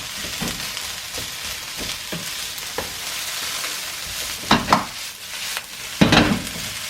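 Fried rice with shrimp sizzles and crackles steadily in a wok while a spatula scrapes and clanks against the metal in irregular strokes, close and fairly loud, with no talking.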